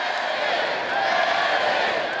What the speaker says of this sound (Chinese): 比赛到下半场，球迷一直喊梅西的名，希望能看到这大明星上场。